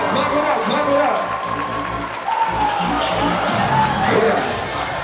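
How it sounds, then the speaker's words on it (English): A crowd at an HBCU event cheers, whoops and claps steadily, with voices shouting over the roar throughout. "Make some noise, get out, make some noise, make some noise. Clap it up, clap it up, clap it up."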